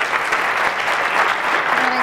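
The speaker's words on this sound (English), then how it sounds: "So thanks, another round of applause." Brief, steady audience applause at a talk, a dense even patter of clapping with faint voices mixed in.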